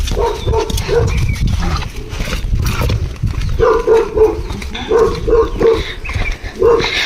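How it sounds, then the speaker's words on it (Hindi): A dog barks repeatedly in short bursts over a noisy, rumbling background near a chili field, some barks in quick clusters. "ये कुत्ता पहले ही भौंकने लग गया है।"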